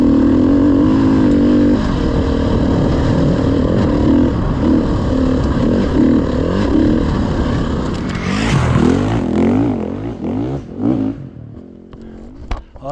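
Dirt bike ridden on a trail on Rampart Range, continuous loud engine drone up close, shifting and revving in the last few seconds with clattering over rough ground.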